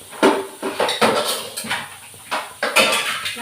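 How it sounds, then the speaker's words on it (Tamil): A wide metal kadai cooking pan is taken out in a home kitchen, with a run of loud, close clanks and knocks of metal cookware against other pots and surfaces, no talking. "அதுக்காக நான் வந்து ஒரு கடாயை எடுத்துக்கிறேன்."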